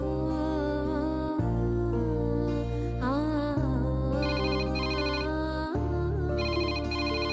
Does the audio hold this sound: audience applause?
no